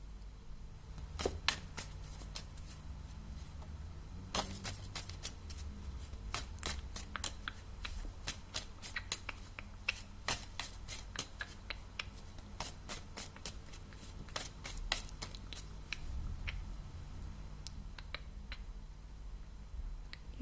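Tarot cards are shuffled steadily for about twenty seconds in a quiet setting, a close, soft run of crisp riffles and taps with no talk.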